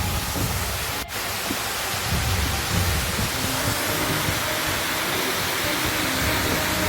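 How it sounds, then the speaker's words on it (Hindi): Waterfall crashing into a deep collecting pool at Bhoot Khola near Butwal, Nepal, a dense broadband roar that stays steady and loud throughout, with one brief dip early on, no talking. "यह झरना देखने में तो एक समान सा झरना लगता है"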